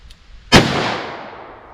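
A single loud handgun shot fires hunting soft point ammunition, in 10mm or .44 Magnum, with a sharp crack followed by a long decaying echo.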